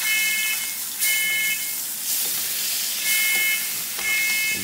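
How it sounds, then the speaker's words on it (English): A smoke detector sets off by steak smoke while a tomahawk ribeye cooks, giving a shrill, pulsing beep about once per second over loud, steady sizzling and hissing from the pan. "I set off the smoke detector"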